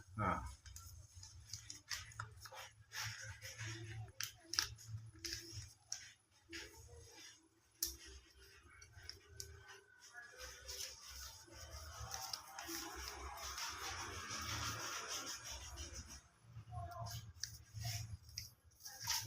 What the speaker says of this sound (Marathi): मग इथून असे फोल्ड करायचे